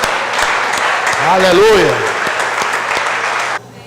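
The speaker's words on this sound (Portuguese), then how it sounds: "Diz amém e aplaude o Senhor." Church congregation applauding during a service, a dense, steady clatter of many hands that fills the space, with a voice calling out over it before the clapping cuts off abruptly.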